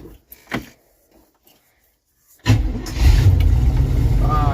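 An engine cranks and fires up after a couple of throttle pumps, catching abruptly and settling into a loud, steady idle close by, with a few soft clicks and thumps just before it starts.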